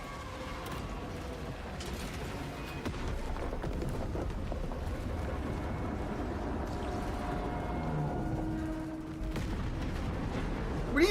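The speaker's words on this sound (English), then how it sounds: "Detonate the charges now." Detonated charges in a Warhammer 40,000 video game rumble and crackle as a sustained wash of blasts and mechanical clatter, with a sharp burst at the very end.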